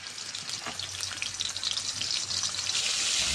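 Fish frying in oil in a pan, a steady bright sizzle with crackling pops that grows slightly louder toward the end, heard close up without voices.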